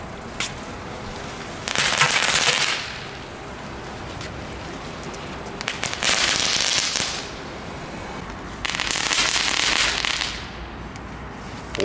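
Cheap Dutch firecrackers from a discount store burst in three long crackling volleys of rapid pops, each lasting around a second, separated by quieter outdoor lulls.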